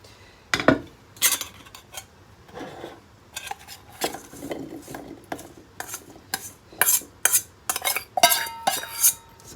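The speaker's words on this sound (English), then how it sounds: "I'm going to go ahead and put it in my little clay cooker" Seasoned potatoes are tipped and scraped into a small clay cooker with a utensil, giving a series of sharp clinks and clatters in irregular bursts, close by, with quiet pauses between.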